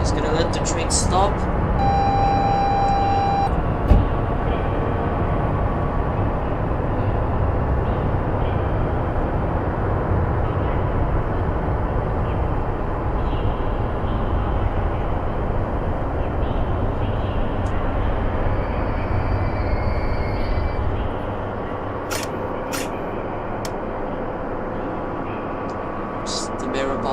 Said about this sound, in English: Just gonna let the train stop.